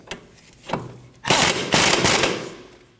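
A hand tool snugs down the outer tie rod nut on a 2003-2006 Subaru Baja 2.5L during front CV axle replacement, giving a soft click, then a couple of loud, close metallic ratcheting bursts.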